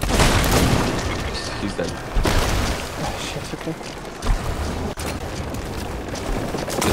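Cannon fire from an enemy ship in Sea of Thieves: heavy booms and dense rumbling blasts fill the whole stretch, loud and continuous, with a person talking over them.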